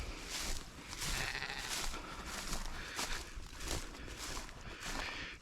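Missouri hair sheep on a ranch bleat in repeated calls from a nearby flock, several overlapping voices rising over steady outdoor background noise with some shuffling.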